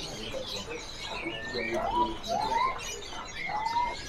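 Songbirds, including oriental magpie-robins, chirp and whistle inside a bird shop, with several rising and falling whistled calls over a steady background of other birds and shop murmur.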